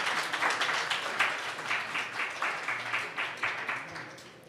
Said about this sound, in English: please give a big round of applause for the speaker